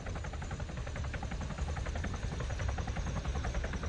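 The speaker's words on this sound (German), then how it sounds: "Viele andere Player würden jetzt einfach anfangen, auf diesen Hubschrauber zu schießen." A helicopter in the video game Arma 3 drones steadily with a rapid rhythmic rotor chop over a low engine rumble, continuous and fairly distant.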